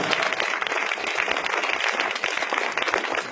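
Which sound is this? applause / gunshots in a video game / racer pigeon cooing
applause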